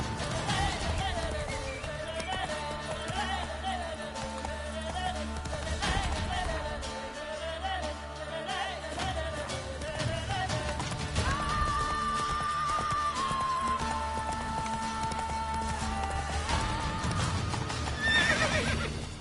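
A horse in The Witcher 3 video game gallops with a rhythmic clip-clop of hooves and gives a few loud neighs and whinnies, all set against a busy layer of in-game background sound.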